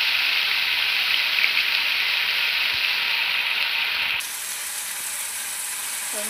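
Spice paste with cumin powder fries in a pan, giving a steady close sizzle and crackle that changes partway through and keeps going with no talking.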